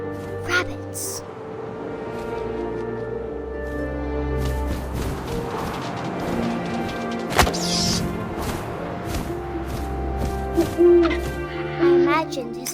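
Owl hooting in the video game What Remains of Edith Finch, mixed with wind, game effects and a sharp crash, while a voice narrates throughout.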